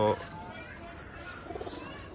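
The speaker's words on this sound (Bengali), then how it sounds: "এই যে কবুতরগুলো দেখতেছেন" Soft cooing of female breeder pigeons murmurs in the background under a voice, with a brief louder burst at the start and light rustling later.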